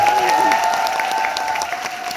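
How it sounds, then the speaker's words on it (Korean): Steady applause from a large theatre audience at the final performance of the musical All Shook Up fills the space, dense and sustained, with a faint tonal hum running beneath the clapping. "박수 한번 부탁드리겠습니다"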